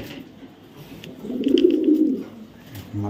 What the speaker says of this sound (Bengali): বিআরপিএফসি ক্লাবের একটা মাদি কবুতর, 2024-এর কবুতর, ইয়ং বার্ড